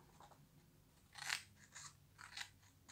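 Scissors snipping through paper while cutting out a large Halloween envelope, with two or three short crisp cuts, the middle one loudest, close up and without talk.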